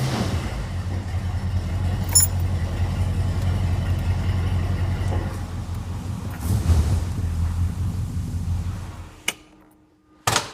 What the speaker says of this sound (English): The engine is awesome, right?